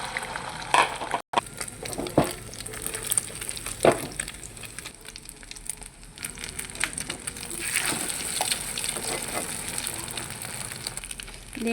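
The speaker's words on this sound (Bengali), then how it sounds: "ডিমটা ভেজে নেব।" An egg fries in a pan for khichuri served with chili bharta, set outdoors in a village, giving a steady close sizzle broken by scraping and stirring clatter, with no talking.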